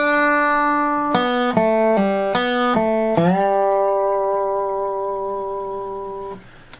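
A dobro plays measures 13 through 16 of a song, a string of bright sliding plucked notes with a final note that rings out for several seconds before fading, no one talking.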